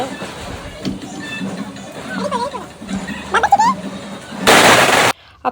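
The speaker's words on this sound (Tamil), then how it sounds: "இவங்க கீழே போய் பட்டாசு வச்சுட்டு இருந்தாங்க" Sharp pops and a loud crackling burst of firecrackers set off during a Diwali celebration, with voices and laughter chattering around them before the bang.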